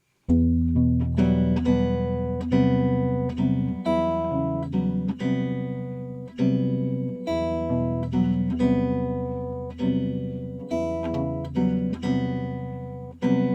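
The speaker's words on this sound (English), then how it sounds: "this minor vamp that happens in this tune" A jazz guitar repeats a minor vamp, plucked chords and single notes in a steady rhythmic pattern, each attack decaying before the next, close and alone with no voices.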